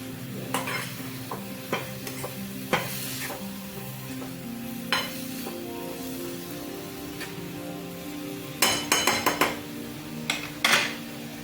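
A spoon stirs carrot halwa with added sugar in a metal pan, giving scattered scraping clinks and a louder cluster of rapid taps near the end over a quiet, steady cooking hiss.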